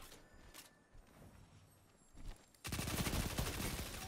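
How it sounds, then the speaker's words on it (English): A machine gun fires in the Iron Banner player-versus-player mode of a shooter game. After quieter footsteps and scattered shots, a loud continuous burst of rapid automatic fire starts partway through and runs to the end. "he has a machine gun"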